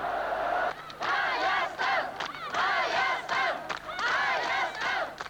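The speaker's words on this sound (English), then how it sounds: "the crowd shouted down a member of the ruling Politburo sent from Moscow" A large crowd at protests in Nagorno-Karabakh shouts in rhythmic unison. Loud chanted bursts repeat at a steady pace over a low background rumble.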